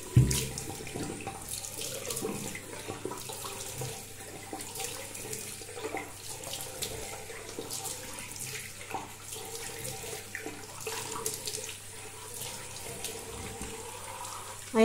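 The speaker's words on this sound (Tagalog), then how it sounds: "banlawan natin" Tap water runs steadily into a sink while a face is rinsed after a night cream treatment, a continuous close splashing wash with small irregular surges and no talking.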